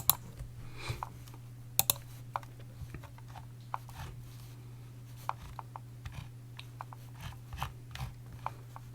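Light typing on a computer keyboard, with scattered soft key clicks at an uneven pace over a steady low electrical hum, close and quiet with no talk.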